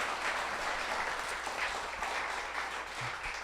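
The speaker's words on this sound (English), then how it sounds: "Give them some applause." Audience applause at a live podcast taping, a steady wash of clapping that runs unbroken for a few seconds at moderate volume.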